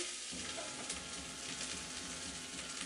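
Poblano chili and onion strips fry in canola oil, giving a loud, steady sizzle with a crackling hiss throughout.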